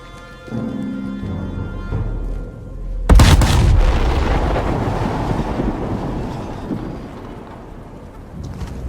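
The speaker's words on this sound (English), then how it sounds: "V2 will fire, but the capsule won't open. Just gotta sit back and watch the fire." A V2 rocket firing in the video game Sniper Elite 5: a sudden heavy boom, then a long roaring rush that slowly fades, following a quieter stretch of low tones.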